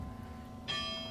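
A chimola, a mechanical chime instrument housed in a chimes building at Greenwich Point, rings out after a quiet moment with one bright, sustained metallic strike that lingers and hums with overtones.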